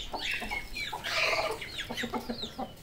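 A rooster and hens from a backyard flock cluck and squawk at close range in quick, overlapping bursts, loud and busy, with no human voices.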